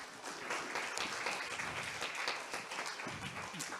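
Applause from the audience at a French round-table conference on rising consumption, a steady dense patter of many hands clapping, moderately loud and unbroken for several seconds.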